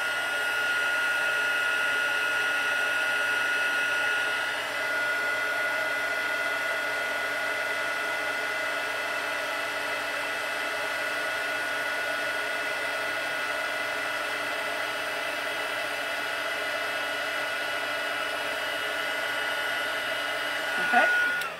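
A heat embossing tool warms and dries stamped ink while a Stampin' Up flat gift bag is made. Its loud, steady, close-up fan whir runs unbroken and alone the whole time.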